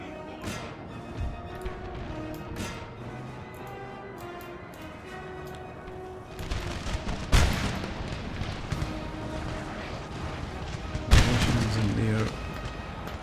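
Troops firing in Napoleon: Total War, a battlefield din of scattered musket shots and heavy booms, with louder volleys crashing near the end, under someone talking.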